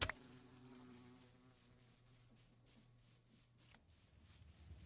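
Bees buzz in the Minecraft modpack Enigmatica 6, a faint, steady insect-like drone with soft rubbing texture, heard alone and at low level throughout.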